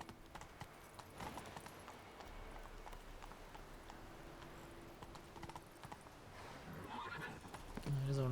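Galloping hooves of a horse in The Witcher 3 video game, steady rhythmic clip-clop running throughout, with a whinny near the end.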